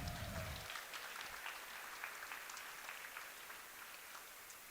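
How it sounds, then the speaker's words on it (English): Applause for the judges at a jigsaw puzzle nationals competition, a sustained round of clapping from a crowd, moderately faint and fairly distant, without talking. "Let's give them a round of applause."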